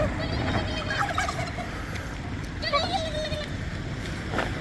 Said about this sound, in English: With loads of turkeys.